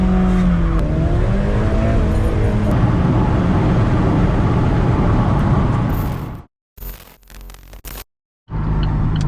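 An Alfa Romeo 4C in race mode drives with a loud, close engine roar and mechanical whine building steadily, then briefly cuts out and sputters before the roar returns.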